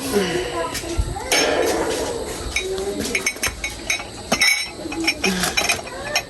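Metal casseroles clink and clatter repeatedly as they are put away while a person talks over the handling.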